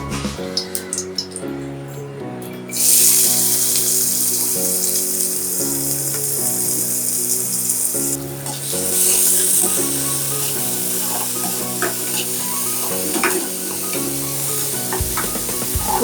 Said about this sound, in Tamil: நெய் போட்டு வெங்காயத்தை போடுங்க.